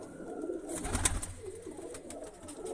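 Domestic pigeons kept by a Punjabi pigeon fancier coo softly close by, a few low, throaty rolling calls overlapping in a short burst amid light background rustle.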